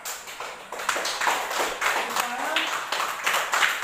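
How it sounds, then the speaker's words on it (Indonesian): Quick, uneven clapping from a small group of classmates in a classroom fills the whole stretch, fairly close and steady. "Silakan tepuk tangan untuk kelompok Kamboja."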